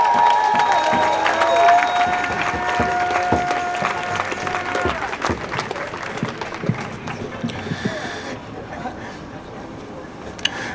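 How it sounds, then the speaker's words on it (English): Crowd applause and scattered cheering at an outdoor First Nations land march in downtown Toronto, welcoming a chief to speak; clapping mixes with street noise, voices and a faint tone, thinning toward the end. "We have a warm round of applause."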